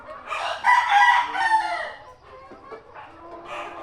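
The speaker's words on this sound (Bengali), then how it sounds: "এই ভিডিওতে আপনারা যেসব মুরগি দেখতে পাচ্ছেন এগুলো একদম অরিজিনাল পিওর দেশি" Desi chickens cluck close by on a poultry farm while a rooster crows in a drawn-out call, with softer clucks continuing afterward.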